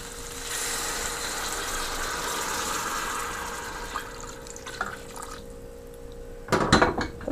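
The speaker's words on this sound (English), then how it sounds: "So now I'm adding the stock from the beef." Beef stock is poured into a hot stir fry pan with beef and potatoes, a steady splashing pour and sizzle lasting several seconds, then tapering off into a few clinks and knocks of utensils.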